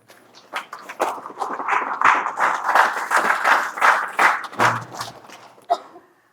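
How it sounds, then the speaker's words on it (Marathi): An audience claps together in a hall, a brisk burst of applause that builds, holds with uneven bright claps, then thins out to a few last claps. "हो, छान टाळ्या वाजल्या."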